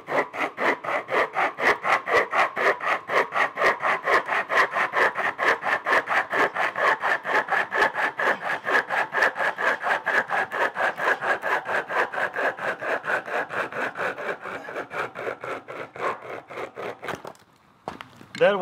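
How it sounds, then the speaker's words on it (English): A pocket chainsaw pulled back and forth through a thick piece of wood, a fast steady rhythm of rasping strokes, close and loud, that slows and stops near the end. "This is called pocket chainsaw."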